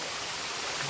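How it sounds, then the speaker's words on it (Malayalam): Water from a mountain stream near Kodaikanal rushes in a brief, steady wash of sound, close and fairly loud, with no talking. "നമ്മള് മലമുകളിൽ നിന്ന് വരുന്ന വെള്ളത്തിലാണ് വാഷ് ചെയ്യണത്."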